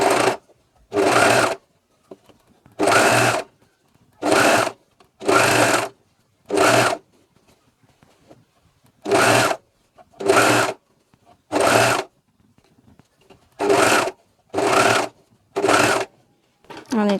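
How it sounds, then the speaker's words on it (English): A coverstitch machine topstitches through layered fabric and ribbing on a dog's t-shirt, running in about a dozen short even bursts separated by pauses, loud and close, with no talking. "my needle is going to go precisely just under the ribbing, cover stitching through all the layers"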